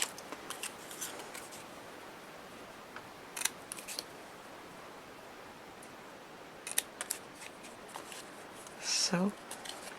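Scissors snip through paper for a Christmas gift tag banner, with a few brief cutting strokes near the start and again midway. A louder snip or paper rustle comes near the end. Quiet room, no talk.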